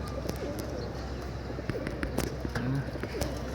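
A sick pigeon in a loft coos softly, a few low warbling notes in the middle distance amid faint background noise and scattered clicks.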